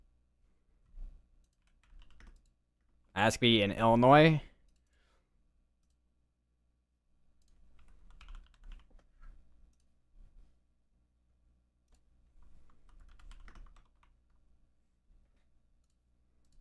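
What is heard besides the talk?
typing on a computer keyboard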